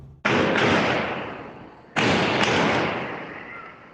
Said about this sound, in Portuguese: Moradores gravaram som de tiros.